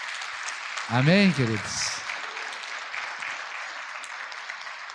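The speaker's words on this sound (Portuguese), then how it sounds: "Agora, nós aqui vamos dar um aplauso ao Senhor pela vida dos pais." A church congregation applauds, a broad, steady patter of many hands clapping at moderate distance while a voice briefly speaks over it near the start.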